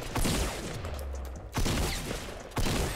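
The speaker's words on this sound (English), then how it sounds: "This thing is like a literal assault rifle, bro." Assault rifle fire in a shooter video game, three sharp bursts of rapid gunshots spaced about a second apart, loud and close, with no voices.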